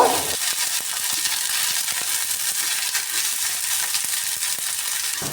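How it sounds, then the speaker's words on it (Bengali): Shredded beef crackles steadily as it fries in a pan, a constant close sizzle broken by faint taps and stirring clicks, with no talking. "এটাও আমি ভাজা ভাজা করে নিব"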